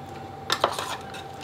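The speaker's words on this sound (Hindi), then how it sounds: "अब हम यहाँ पे जो अंडे के ऑमलेट के पीसेस करके रखे थे वो डालेंगे। एक बार हम और अच्छे से मिक्स करेंगे।" Omelette pieces are mixed into curry in a pan, two quick metallic clinks of the spoon against the pan followed by a brief soft scrape, close and quiet.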